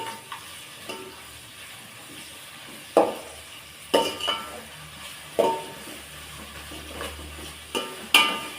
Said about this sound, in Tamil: இப்போ வெங்காயம் வந்து நல்லா வதக்கி விட்டுறலாம்.